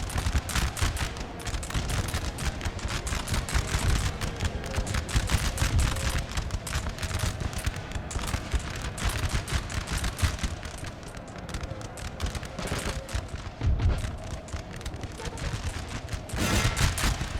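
Volleys of musket gunfire rattle continuously through a Napoleonic battle in a strategy video game, dense overlapping shots with heavier booms, loud and sustained throughout.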